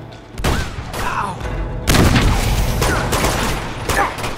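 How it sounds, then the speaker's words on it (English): Heavy, continuous gunfire from the video game Uncharted 2 crackles loud and dense throughout, with a sharp burst of extra shots surging in midway. "I'm getting shot from behind"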